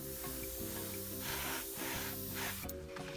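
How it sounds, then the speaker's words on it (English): An airbrush sprays paint at about 10 to 15 psi onto a 1/56 M4 Sherman tank model, giving a steady close hiss with tonal hum from a compressor running underneath throughout. "Spraying at about 10 to 15 psi."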